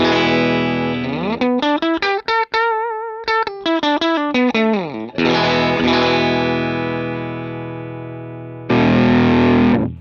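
Parenti T-Type electric guitar through a Frenzel Hotbox amp on a clean tone, sustained chords and bending single notes ringing out loud and close, with brief gaps between phrases and no talk.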